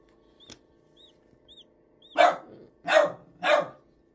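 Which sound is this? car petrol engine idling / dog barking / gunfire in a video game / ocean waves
dog barking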